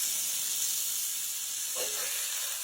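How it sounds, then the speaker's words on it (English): Cube steak browning in a hot pan gives a steady, close hiss of searing with a slight swell near the end, no talking. "I'm going to continue on browning these on each side"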